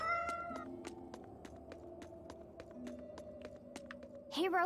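A cat meows near the end of a Tales of Berseria game scene, a short rising cry after a stretch of light repeated taps and game music tones.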